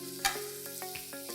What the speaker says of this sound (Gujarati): બધું આપણે સારી રીતે મિક્સ કરી દઈએ.